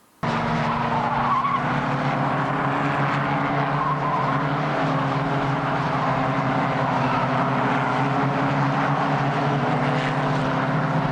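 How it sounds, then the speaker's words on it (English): Formula First race cars head out for a practice session at Silverstone, engines droning loudly and continuously with layered, steady tones as several cars pass, no talking. "Cars coming out now for the final practice session of the morning here at Silverstone"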